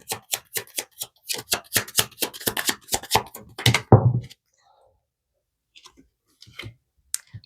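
Tarot cards being shuffled and tapped, a run of quick close crisp clicks and riffles for about four seconds, then near silence with a few faint taps.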